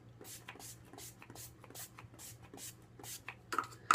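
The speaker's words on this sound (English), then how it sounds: "I'm going to use a little bit of Urban Decay De-Slick Makeup Setting Spray and Oil Control" A quiet run of short hissing spray bursts from an Urban Decay De-Slick makeup setting spray, about eight in steady rhythm, ending with a few small clicks and a louder knock.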